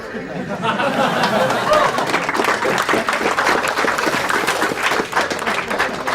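An audience bursts into steady, dense applause after a speedrun, with clapping mixed with crowd chatter and a few cheers throughout, fairly loud and continuous.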